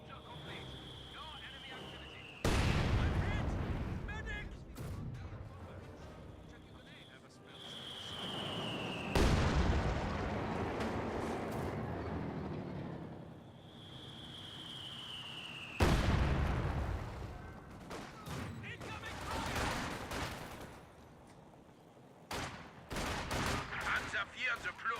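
An artillery barrage lands in the real-time strategy game Company of Heroes 2, with repeated heavy booms and bursts of gunfire rolling over the battlefield, loud and spread across the whole stretch, while a commentator talks over much of it.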